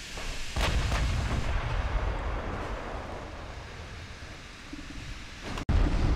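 Enemy warship artillery firing in the naval game Ultimate Admiral: Dreadnoughts, heavy booming gunfire rolling over a steady sea-and-wind backdrop, with a sharp loud blast near the end.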